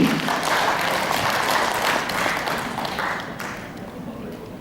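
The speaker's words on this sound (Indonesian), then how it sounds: "Kita berikan tepuk tangan sekali lagi." An audience at a 2023 patent directorate work meeting claps in a burst of dense applause that slowly fades toward the end.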